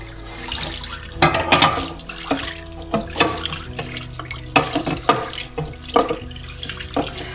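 Running tap water splashes over a stainless steel pan scrubbed with a loofah sponge in a sink, with a steady stream broken by repeated louder swishing scrub strokes and splashes, close up and without speech.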